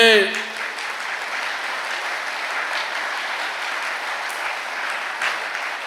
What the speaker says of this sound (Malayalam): ഒന്ന് കൈയുയർത്തി കൈയടിച്ചേ